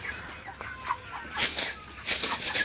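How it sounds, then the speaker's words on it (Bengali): Broiler chickens cluck softly in short, scattered calls, a few sharper squawks mixed in, close by against a quiet background. "আমি যে ব্রয়লার মুরগিগুলো বড় বানানোর জন্য রাখছিলাম"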